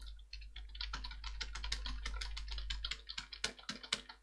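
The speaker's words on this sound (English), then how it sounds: "we'll just type in a little code" Rapid keyboard typing on a computer while entering code in a Visual Basic 2010 Notepad program, a steady run of close, crisp key clicks that grows sparser and more separated toward the end, with no voices.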